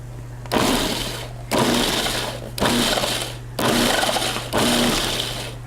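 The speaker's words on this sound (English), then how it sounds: "We're gonna pulse it just a few times to get the fat coated in the flour." Five separate blender pulses on coconut flour and fat, each a loud roughly one-second whirring burst with short gaps between, steady and close with no talking.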